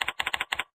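Quick burst of keystrokes on a computer keyboard, about seven crisp clicks in rapid rhythmic succession, close and fairly quiet, ending in silence.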